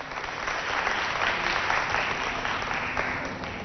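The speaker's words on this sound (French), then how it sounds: "Applaudissez pour lui." An audience at a televised quiz contest applauds a contestant from a holiday camp, giving steady, dense, loud clapping throughout with no pauses.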